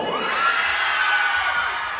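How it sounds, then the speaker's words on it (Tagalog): An audience at a live comedy show in La Union cheers and shouts, a loud sustained wash of high voices and whoops filling the room, with little sign of clapping under the din. "Palakpakan nila kasamang hiyawan dito sa side."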